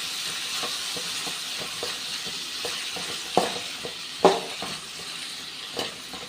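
Chopped onions sizzle with salt in a pan, a steady soft hiss broken by a few sharp metallic clinks and scrapes of stirring, close by and with no talk.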